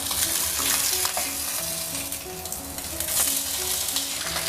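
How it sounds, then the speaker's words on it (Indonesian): Fish frying in a little hot oil over medium heat in a home kitchen sizzles continuously and loudly, with occasional clinks and stirring from a utensil in the pan and no talking. "Panaskan sedikit minyak, lalu goreng atau masukkan ikan."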